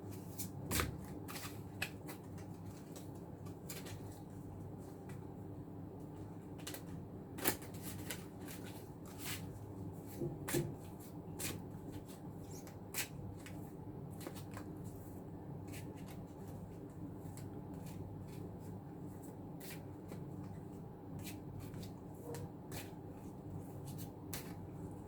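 Oracle cards are shuffled with soft, faint, repeated riffling and flicks over a low steady room hum, continuing for a long stretch with no talk.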